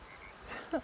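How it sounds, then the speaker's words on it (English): A short croak or two from a frog rises briefly near the end over quiet outdoor ambience in the Pacific Northwest, faint and somewhat distant. "you can hear frogs."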